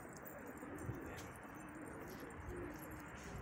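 Pigeons coo softly on a rooftop, with low murmuring calls repeating under a steady wash of outdoor noise and no talking.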